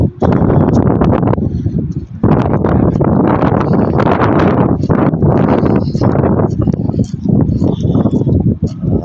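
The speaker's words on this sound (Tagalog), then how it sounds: "medyo malamig po ngayon kasi malakas yung hangin" Strong wind from a sandstorm roars loudly against the microphone in continuous heavy gusts with only brief lulls.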